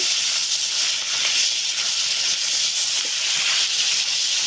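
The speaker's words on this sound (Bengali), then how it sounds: "এবার নুন হলুদ মাখিয়ে এটাকে গরম তেলে ভেজে নিতে হবে। তো তেলে এটা ভাজা হচ্ছে।" Crab pieces coated in salt and turmeric fry in hot oil, giving a loud, steady, hissing sizzle that runs unbroken throughout with no voices.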